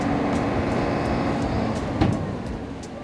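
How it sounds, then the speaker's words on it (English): Big trucks hauling snow on a road in Aomori, Japan, a loud continuous engine and tire roar close by with a brief heavier thump midway, no voices. "And then the really big trucks would come along and show everyone up."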